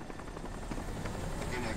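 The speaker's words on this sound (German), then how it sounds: "können Sie den Helikopter orten?" A helicopter in the game Crysis Warhead chops steadily close by, a loud continuous rotor thrum with a rapid pulsing beat, while a voice speaks over it.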